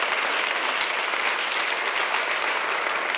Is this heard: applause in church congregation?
yes